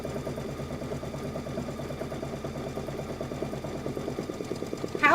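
A sewing machine stitching a quilt border, running at a steady mechanical rhythm with a motor hum for about five seconds before a brief louder noise at the end.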